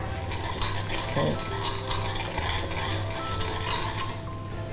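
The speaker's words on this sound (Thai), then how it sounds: "ระหว่างนี้เราจะเคี่ยวกะทิกับตัวพริกแกงเผ็ดนะคะ" Coconut milk simmering with red curry paste for a Thai chu chee curry with napa cabbage is stirred in a pan, with steady scraping and bubbling close by, a few light clinks of a utensil, and no talking.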